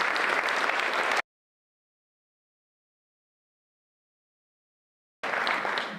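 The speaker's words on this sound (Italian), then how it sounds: "un altro grande applauso lo dedichiamo a Dino" An audience at an author talk bursts into dense applause, stops abruptly into a long silence, then the applause returns just as loud for the final second.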